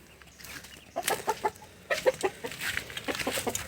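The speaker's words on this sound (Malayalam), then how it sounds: "ഇതാണ് എൻ്റെ ഉള്ള ഒരു കാപ്പിരിയാണിത് കാപ്പിരി കോഴി" A Kappiri hen clucks close by in a backyard poultry setting, giving a string of short, soft, irregular clucks with brief pauses between bursts, and no one talking.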